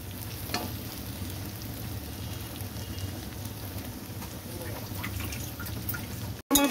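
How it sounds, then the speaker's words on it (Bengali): Potatoes sautéed with spiced masala in oil in a pan while cooking a pea and paneer dish, giving a steady close sizzle and frying crackle throughout, with a brief scrape near the end. "এবার আমি আলুটা দিয়ে আবার কষিয়ে নেব।"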